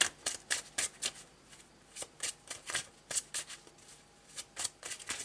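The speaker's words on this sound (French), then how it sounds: "Allez, je vais prendre quelques cartes du..." Tarot cards being shuffled by hand in quick, irregular bursts of crisp riffling and slapping, close and fairly quiet, with no talking.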